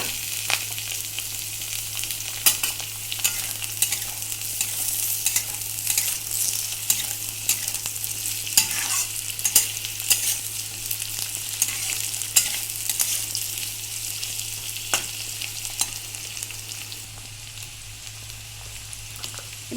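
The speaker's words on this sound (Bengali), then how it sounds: "আলুটা ভাজা হয়ে গেছে। এবার এখানে আমি দিয়ে দিচ্ছি কিছু কুচনো পেঁয়াজ।" Chopped onions go into a pan of fried potatoes, giving a dense, even sizzle with repeated stirring taps and scrapes throughout, close and without speech.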